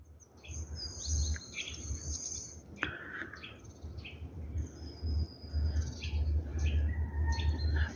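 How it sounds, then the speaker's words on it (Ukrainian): Small birds sing in a winter forest, with scattered high chirps and short trills from several directions, mostly soft and somewhat distant over a low, steady outdoor hush. "Слухайте, діти, як співають пташки в зимовому лісі."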